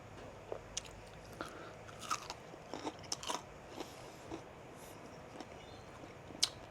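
Bites and chewing of crunchy air-fried chicken cooked in a 12 V air fryer, a series of sharp close crunches spaced irregularly over a quiet background, with no talking.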